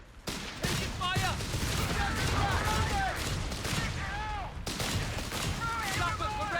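Dense gunfire and bursts from the Company of Heroes 3 battlefield pound almost continuously, with voiced callouts and whistling tones woven through the din.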